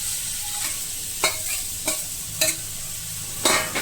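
Spice-marinated fish frying in a pan with garlic paste, a steady oily sizzle broken by several sharp scraping and stirring strokes of a utensil, close and fairly loud, with no talking.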